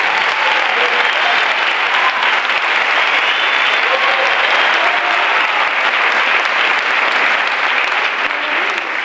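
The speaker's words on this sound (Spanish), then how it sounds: "por favor, un aplauso para él" Dense, steady audience applause fills a performance hall as a band member is introduced, loud and continuous throughout with no talk over it.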